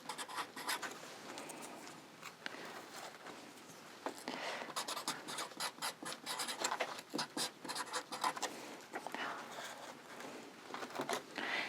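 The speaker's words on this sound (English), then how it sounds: "I just write what it is, nettle, and then on the flip side, the date I planted it" Pen scratching across a small wooden plant tag, with steady close scribbling strokes in short bursts and a pause partway through, no talk.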